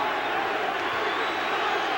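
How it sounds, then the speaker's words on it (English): A boxing arena crowd roars steadily during a world light welterweight title fight between Kostya Tszyu and Roger Mayweather, a dense continuous wash of cheering with commentary talking over it. "the crowd trying to spur him on"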